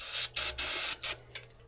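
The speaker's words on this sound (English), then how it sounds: "I'm spraying a bunch of carb cleaner in there" Carb cleaner sprayed in several short hissing bursts into the throttle body of a Chevrolet Camaro, four or five close, loud blasts with brief pauses between, the last ones shorter and fading.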